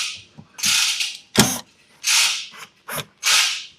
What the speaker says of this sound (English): So I'm gonna remove that screw first.